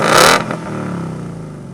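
A Ford Mustang Bullitt engine gives one short, loud rev that ends sharply, and the exhaust rumble then fades slowly over the following second.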